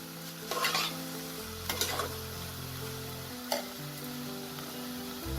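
Pepper powder is stirred into chicken manchow soup in a pan, with scraping spoon strokes over a low sizzle, a few clustered clatters early, then a single sharp knock; the cooking is near and steady, with no talking.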